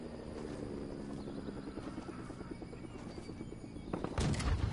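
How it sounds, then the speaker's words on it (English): Helicopter rotor chopping steadily through a chaotic outdoor game scene, the rhythmic blade thumps fairly close amid clattering background noise, with a louder burst near the end. "Helicopter."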